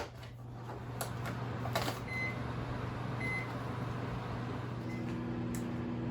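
A microwave oven running with a low, steady electrical hum and whir, a few faint clicks and ticks over it, quiet and close.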